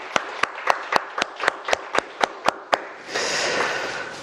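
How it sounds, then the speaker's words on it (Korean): Rhythmic unison clapping from a church congregation welcoming a newcomer, about ten sharp even claps, then breaking into a brief wash of looser applause. "우리 박수로 크게 같이 한번 환영하겠습니다"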